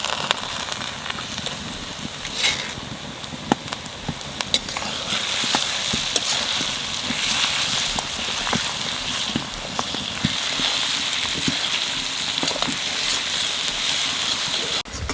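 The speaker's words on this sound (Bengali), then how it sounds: "পেঁয়াজের সাথে চর্বিটা ভেজে নেব।" Onions frying with fat and a spoonful of sugar in a pan, a steady sizzle and crackle with scattered pops and stirring clicks, close and continuous, with no voices.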